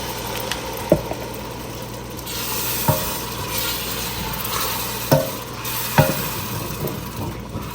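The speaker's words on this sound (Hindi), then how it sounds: "इस तरीके से सारी दाल जो है इसमें डाल देंगे और थोड़ा सा इसको 2-3 मिनट के लिए भूनेंगे।" Lentils for dal makhani sizzle steadily as they fry in a pot while a spoon scrapes and stirs, with occasional sharp knocks against the metal and a low background hum.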